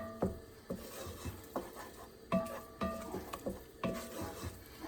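A spoon scrapes and stirs a large batch of roux in a big pot for New Orleans style gumbo, with repeated uneven scraping strokes and a soft sizzle, close and clear with no talking.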